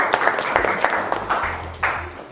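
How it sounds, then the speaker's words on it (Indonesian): Classroom applause for a student group after their presentation: a short burst of scattered clapping from a modest group, uneven and somewhat close, with faint voices underneath. "tepuk tangan buat kelompok 1"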